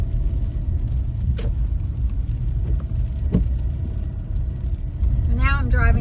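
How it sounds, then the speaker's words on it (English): A car drives through downtown Topeka, Kansas, with a steady close road rumble and engine drone throughout, brief clicks and a rising squeal near the end, while someone talks over it. "So now I'm driving around the back end of Stormont Vale"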